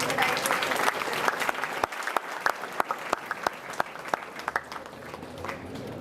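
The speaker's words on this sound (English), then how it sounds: "Give a big applause to them." Audience at a college orientation program applauding student toppers: dense steady clapping that thins toward the end into scattered individual claps, with a faint voice underneath.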